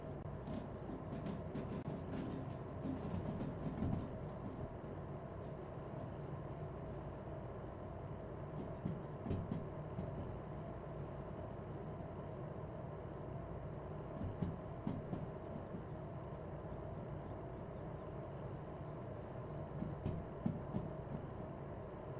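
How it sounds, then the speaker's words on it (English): A DH4 diesel locomotive in the Derail Valley train simulator runs steadily through a curve, a faint continuous low engine drone with soft rail clicks and clunks scattered throughout. "once the train gets through this corner, we can start giving it all the power it'll take"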